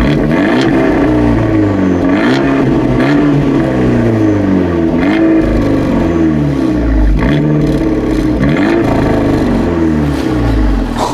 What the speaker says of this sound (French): Tu crois que tout le monde a envie d'entendre le formidable bruit de la voiture?